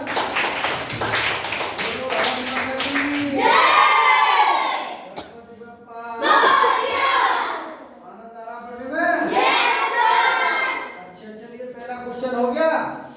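Schoolchildren clap loudly in a village classroom, with cheering and shouting in several bursts between a teacher's spoken lines, the applause rising and fading three or four times.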